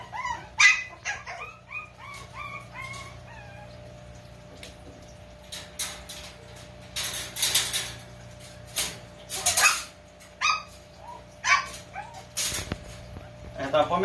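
Small puppies, a three-month-old female Maltipoo and a female teacup Pomeranian, yip and bark in sharp, scattered bursts close by, mixed with whimpers, while a person talks at intervals.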